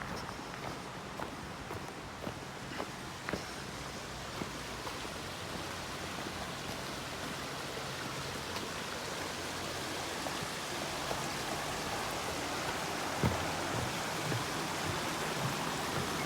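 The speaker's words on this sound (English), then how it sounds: "Nice sounds of the babbling brook." Steady broadband rush of a small babbling brook beside a footbridge on a disc golf course in Dover, New Hampshire, with faint footsteps and a few light knocks over the continuous water flow.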